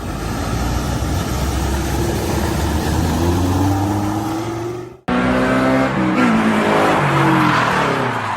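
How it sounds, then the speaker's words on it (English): A Toyota GT86 roars loudly with its engine straining and tires squealing as it skids, followed by a sudden cut and further engine and tire noise. "What will happen to this superb Toyota GT86? Why did it skid?"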